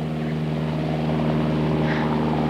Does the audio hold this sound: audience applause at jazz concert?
no